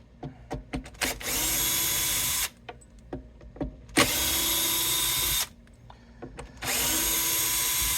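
A Bosch power tool works on a Godin acoustic guitar with an LR Baggs pickup during fingerboard removal. It runs loud and close in three sustained bursts of several seconds each, with clicks and handling knocks in the pauses between them.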